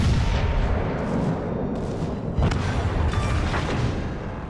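Naval guns on a ship in a video game fire at an enemy destroyer, a dense stretch of deep rumbling booms and blasts. Heavy impacts land at intervals over a continuous roar, loud and close.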